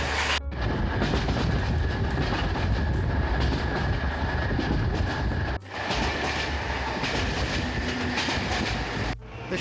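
A train in Bulgaria rumbles steadily along the tracks with a broad, loud, continuous roar, broken by a couple of brief dips, and no voices are heard.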